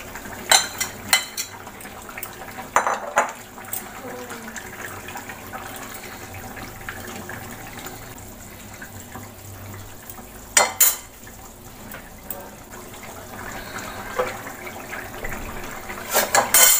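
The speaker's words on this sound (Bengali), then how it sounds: "এবার আমি বড়াগুলো দিয়ে দেবো" Fritters (bora) go into a curry boiling in a pot, with sharp metallic clinks and scrapes of a utensil against the pot scattered over a quiet simmering background, no talk.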